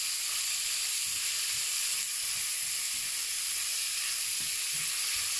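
Small cut pieces of pork lardons sizzle steadily in a hot pan, a constant close, bright hiss with faint crackles and occasional low bumps from stirring, no voices.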